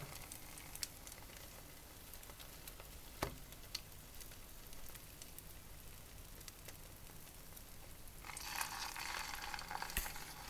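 Steady, quiet sizzling of egg-dipped bread frying in a pan, continuous crackle with a few louder pops, growing a bit brighter near the end.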